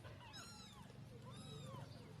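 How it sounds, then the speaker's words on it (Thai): A small kitten meows twice, thin high-pitched cries about a second apart, faint against a steady background hum. "แมวน้อยค่ะทุกคน"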